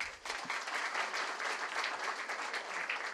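An audience applauding to welcome a speaker onto the stage at a business event, a dense, steady roar of many hands clapping that holds evenly throughout, heard from a moderate distance.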